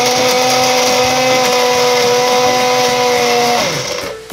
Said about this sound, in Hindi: ये देखिए, ये अब ग्राइंड हो रहा है।